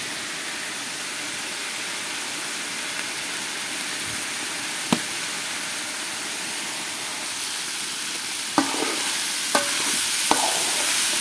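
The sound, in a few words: peppers being sautéed and stirred in pan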